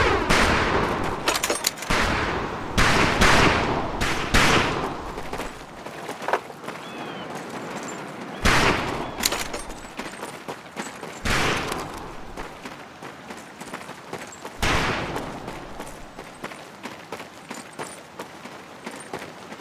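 Gunfire from the Medal of Honor: Pacific Assault video game on a training range, with repeated sharp rifle shots and bursts spaced irregularly, loud and close against a quiet background.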